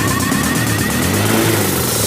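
A motorcycle engine revving hard and steadily after an oil change to GTO Super Oil, loud and close, a continuous rough engine drone with no talk.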